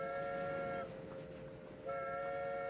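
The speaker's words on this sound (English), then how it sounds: "Oh, we've got a bit of activity. Get a few trains coming in." Trains arriving at a station in the railway game Transport Fever 2: a sustained, multi-tone horn or whistle sounds, breaks off, then returns, over a low rumbling background.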